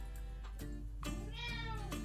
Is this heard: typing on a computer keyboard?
no